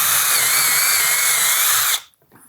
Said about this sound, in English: when we drill that hole